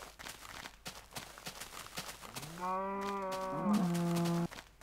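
A Minecraft cow gives one drawn-out, wavering moo that rises and bends in pitch, heard clearly over faint game footsteps and ambient clicks.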